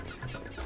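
A chicken clucks in a short, close burst in the Super Mario Sunshine video game, from a flaming chicken in the Hot Wings area, heard alone without talk.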